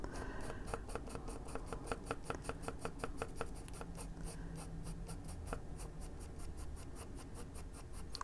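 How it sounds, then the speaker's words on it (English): Colored pencil scratches across a sheet of paper during adult coloring, with quick, rhythmic back-and-forth strokes that are soft and close, sometimes pausing, with no talking. "I don't like coloring on my desk, so boom, piece of paper."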